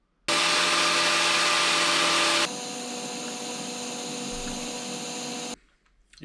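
TIG welding on an exhaust downpipe for a Corrado VR6 build: a steady, close electrical buzz and hiss, louder for the first two seconds, then settling into a softer continuous hum before stopping abruptly.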